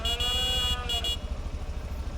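A vehicle horn honks on a farm, a loud, sustained, harmonic blare over the low rumble of an idling engine. It cuts off after about a second, leaving the engine running alone.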